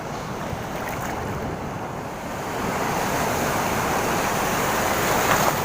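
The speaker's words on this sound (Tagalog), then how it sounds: "ang lalaki ng alon mga master" Steady, roaring surf of big ocean waves crashing at a fishing spot under northeast monsoon winds, broadband and continuous, swelling slightly louder, with wind buffeting the microphone.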